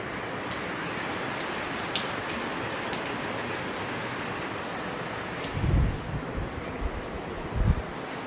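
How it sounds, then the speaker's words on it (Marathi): Steady rain falls outside a house, a constant close hiss mixed with wind buffeting, broken near the end by a few heavier thumps and rustles. "पाऊस बघा"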